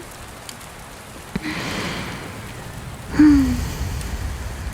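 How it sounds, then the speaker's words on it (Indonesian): Steady rain falls at night, a soft continuous patter close by, with a brief murmur and breath-like sounds partway through. "Hujannya belum reda juga ya, dan makin malam udaranya malah makin dingin."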